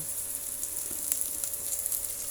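Onion and garlic sautéing in a pan for pinakbet, a soft continuous crackling sizzle with scattered small pops, close and moderately loud, with no one speaking.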